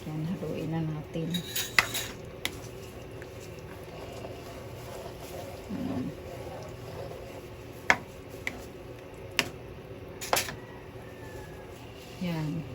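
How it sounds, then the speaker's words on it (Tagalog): Food with hotdog stirred in a pan using utensils: scattered metallic clinks and scrapes over a soft background, with a person speaking at times. "Yan, haluin na natin."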